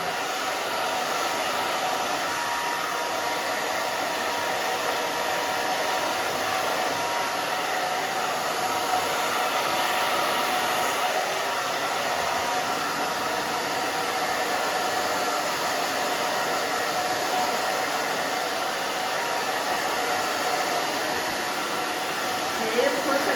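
A hair dryer blows loudly and steadily throughout, a constant close airy roar while thick hair on a textured pixie cut is dried.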